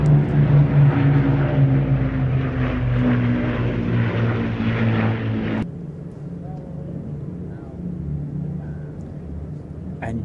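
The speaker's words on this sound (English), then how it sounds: "Spitfire today flown by Squadron Leader Giles Croft." A Supermarine Spitfire flies past at the Midland Air Festival, a loud, throbbing propeller-engine drone that cuts off abruptly partway through and gives way to a quieter, lower rumble.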